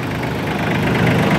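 A mini tractor with rotavator idling nearby, a loud steady diesel chug with an even throb and no pause, no voices.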